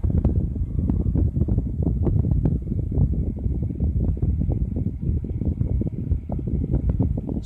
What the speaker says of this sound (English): it's actually a pretty quiet fan